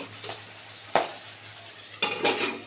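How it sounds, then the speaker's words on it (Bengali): Large desi shing fish frying in hot oil, giving a soft sizzle broken by two or three sharp pops and spatters close by, with no talking. "শিঙি মাছ যে এত ফাটে এই প্রথম দেখলাম"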